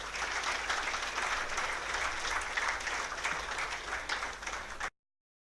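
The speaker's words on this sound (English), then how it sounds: "please give a big round of applause for Mr. Karan Datta." An audience at a corporate event applauds a speaker as he is introduced, giving steady, dense clapping for about five seconds that then cuts off abruptly, with no voices over it.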